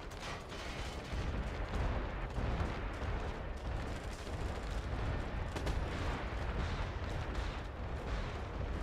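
Artillery fire mission in the video game MAG during a Domination match, a dense, continuous roar of booming impacts and rumbling blasts sustained at steady loudness throughout.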